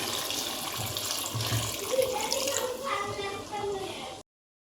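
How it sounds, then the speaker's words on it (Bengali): Water poured from a tap into a pan of chicken curry to make gravy, a steady close splashing and gushing stream for about four seconds that stops abruptly. "এবার আমি কিন্তু জল দিয়ে দেবো ঝোলের জন্য।"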